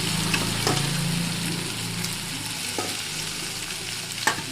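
Potatoes frying in hot oil in a pan, a steady close sizzle with occasional stirring scrapes and clicks.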